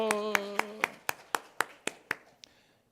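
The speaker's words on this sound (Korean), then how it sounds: "박수!" Church congregation clapping in a Sunday worship service, a run of about ten sharp, evenly spaced claps that fade gradually, with a sustained organ or keyboard chord underneath at the start.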